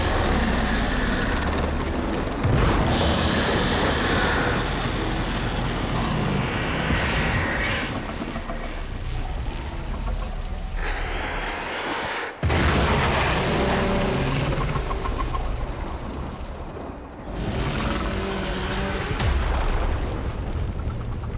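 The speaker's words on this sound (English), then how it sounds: "There should be useful detritus falling from the explosion." An explosion in the sci-fi video game Warframe brings dense, roaring rumble and crackling debris. Heavy booms hit sharply around the start and midway, and the loud wash continues throughout with no speech.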